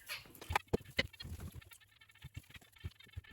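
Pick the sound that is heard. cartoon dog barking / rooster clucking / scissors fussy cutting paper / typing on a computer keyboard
rooster clucking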